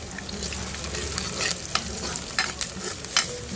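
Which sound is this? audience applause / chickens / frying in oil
frying in oil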